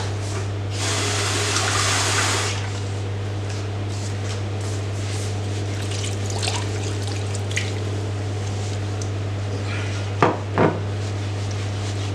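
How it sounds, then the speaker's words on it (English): Water pours into a cooking pot while a Greek dish is being prepared: a brief steady splash of about two seconds, then a low steady hum with a couple of faint clinks near the end. "I'll be adding in more water."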